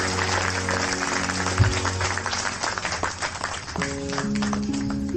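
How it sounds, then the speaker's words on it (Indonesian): An audience at a spoken gathering applauds together, a sustained wash of clapping with a faint musical hum beneath, moderately loud and continuous throughout. "Tepuk tangan semua teman-teman sekalian untuk cinta kita bersama."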